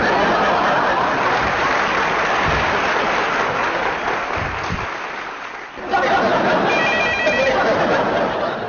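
A telephone rings in a home scene from a Pakistani family comedy series. The ringing tones come in the later seconds over a dense, steady background of room noise and loud sound.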